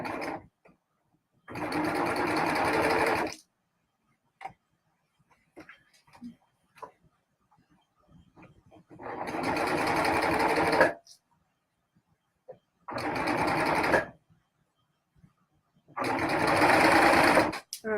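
A sewing machine top stitching fabric in four separate loud, steady runs of rapid mechanical whirring, each lasting one to three seconds, with quiet pauses filled by light handling clicks between them.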